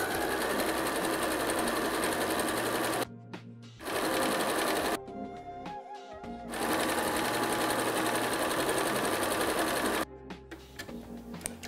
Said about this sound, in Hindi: इस तरफ भी 1/4 इंच सीम अलाउंस के साथ आप इसको सिल दीजिए।